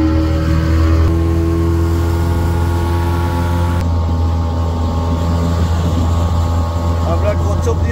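A speedboat pulls away from Kochchopia in Bangladesh with a loud, steady engine drone that holds throughout and shifts in tone partway, under the rush of wind and water.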